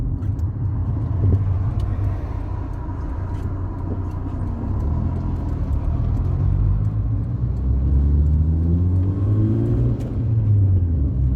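A car's engine hums and rumbles steadily as it climbs a ramp during a driving lesson, with a continuous low drone that rises slightly in pitch toward the end.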